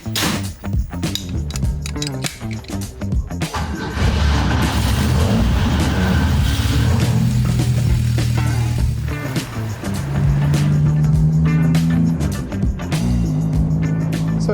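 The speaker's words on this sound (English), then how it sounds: "the only thing left to do really is take it for a drive" A 1960s Renault Caravelle/Floride French sports car on the road, its engine droning steadily and close with rises and falls as it accelerates and shifts, interior rattles and clinks over the hum.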